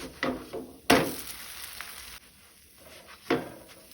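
A dill leaf dosa (shepu pole) is flipped on a hot pan: a soft, steady sizzle broken by a few sharp scraping knocks of the turner against the pan.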